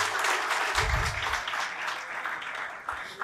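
A burst of applause from an audience at a UPSC toppers' talk, many hands clapping together steadily for a few seconds.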